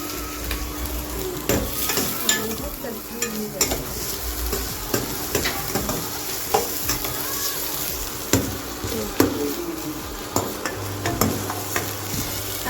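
Capsicum, soya chunks and potatoes fry together in a pan on a gas stove, with a steady sizzle broken by regular scraping stirs and clinks of the spoon against the pan, close and fairly loud.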